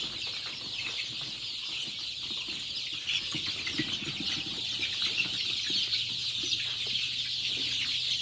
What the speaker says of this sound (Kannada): ಪ್ಯೂರ್ ನಾಟಿ ಕೋಳಿ ನೋಡಿ